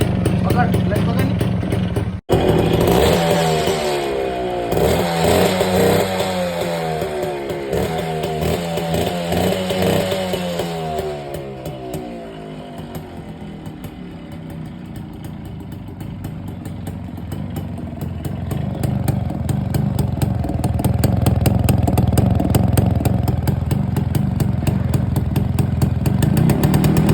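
A Suzuki Max R 100 motorcycle engine runs loud and close, revving up and down in rising and falling surges, then settles to a steady, rough idle that swells again toward the end.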